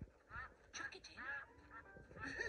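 Several quiet duck quacks in quick succession, nearby but soft, with a little background noise between calls.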